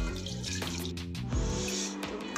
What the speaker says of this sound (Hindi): इसी तरह से अच्छे से सारे चावल को धो के उसके बाद में चढ़ा